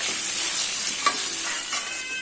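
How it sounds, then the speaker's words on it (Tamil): Onion and garlic sautéing in hot oil in a pan for a Punjabi chicken gravy, a steady close sizzle with a couple of soft stirring scrapes, no voices. "அது வரைக்கும் இந்த எண்ணெயிலேயே நல்லா நம்ம வதக்கிடுவோம்"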